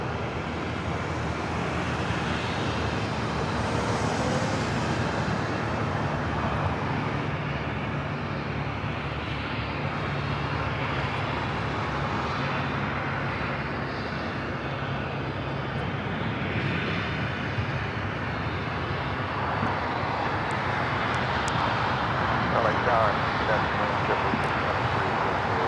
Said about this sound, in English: Also have ANA, the Dreamliner heading back to Tokyo Narita, now taking off on the north side